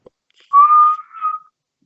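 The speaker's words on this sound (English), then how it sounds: "So at first I blow my whistle." A single whistle blown for about a second, a clear, steady, fairly loud tone that wavers briefly near the end, heard alone in an otherwise quiet room.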